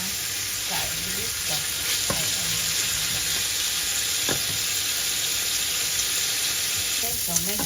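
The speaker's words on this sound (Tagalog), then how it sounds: "Saka natin ilagay yung onion saka garlic." Onion and garlic frying in a pan with pork for red beans and glass noodles, a steady loud sizzle with scattered scrapes and clinks of stirring, heard close.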